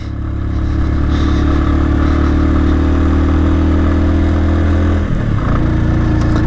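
A motorcycle engine drones loud and close while riding on a mountain road in Bandarban, a steady low rumble with rattling clatter that briefly dips and shifts near the end.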